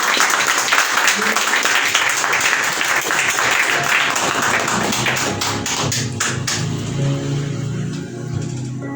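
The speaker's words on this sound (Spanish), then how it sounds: "Dale un aplauso al Señor Jesús." A church congregation claps and applauds loudly in a sustained burst that gradually thins toward the end, with a voice speaking under the clapping.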